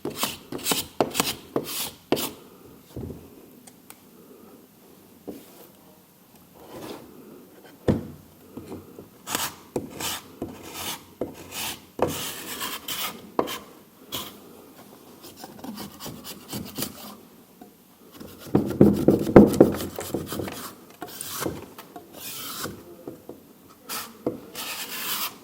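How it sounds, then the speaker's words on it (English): A tool scraping back the seam of a plaster mould in a ceramics workshop, with repeated rasping strokes in irregular bursts and a longer, louder stretch of rubbing near the end. "we'll take that off, and again scrape it back to reveal the seam"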